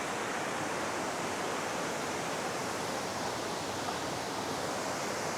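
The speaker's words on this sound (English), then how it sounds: "you can see the water cascading down. It's really bouncing off the rocks." Waterfall on the forested drive from Vancouver to Whistler, water cascading down and bouncing off rocks: a steady, dense broadband roar, close and unbroken, with no voices.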